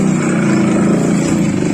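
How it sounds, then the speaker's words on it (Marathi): A vehicle engine passing close by outside, a loud steady motor drone with a low hum that holds for the whole stretch. "गाडीचा आवाज होता."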